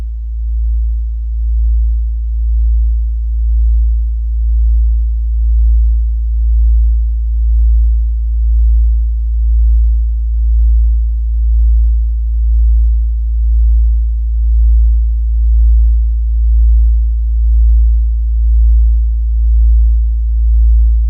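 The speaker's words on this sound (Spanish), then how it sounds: "compañero Noel, bajamos prácticamente este otro lecho sonoro, precioso por cierto, y escuchamos ese sonido de Auckland." A mysterious low hum recorded in Auckland, New Zealand, droning steadily and loudly with a slow, even pulsing throughout, with no voices or other sounds.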